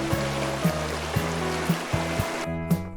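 Cold stream water runs over slick rocks at a creek crossing on a hiking trail in Glacier National Park's North Fork, a steady rushing wash broken by regular thumping knocks, close and fairly loud with no talk.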